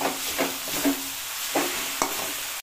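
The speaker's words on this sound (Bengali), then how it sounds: "এখন নাড়াচাড়া করে মিলিয়ে নেবো ভালো করে" Cabbage being stirred in a pan with cumin and ginger paste: a steady soft sizzle broken by several scraping stir strokes at an irregular pace, close and moderately loud.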